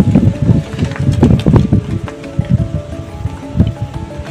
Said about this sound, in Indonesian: Yang anginnya agak lumayan ini.